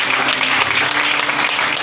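Audience applause fills a church family presentation, a steady dense clapping held at even loudness for the whole short stretch.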